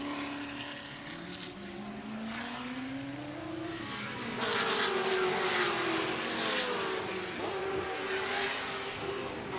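Ford GT40 race cars at the Goodwood Revival Whitsun Trophy, engines screaming past with rising and falling pitch, a loud car sweeping by midway over a distant circuit roar.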